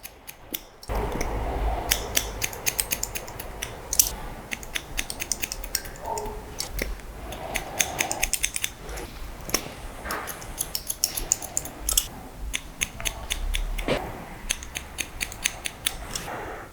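Scissors snip through long men's hair in a quick, irregular series of crisp close-up cuts, with small metallic clicks and brief pauses between bursts of snipping.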